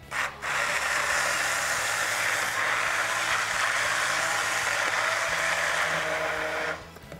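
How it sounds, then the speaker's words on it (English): A stick blender blending soup whirs continuously, a loud, even, hissing drone up close that holds steady for several seconds before cutting off. "And just blend that with a stick blender"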